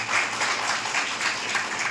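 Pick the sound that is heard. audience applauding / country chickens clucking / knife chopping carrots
audience applauding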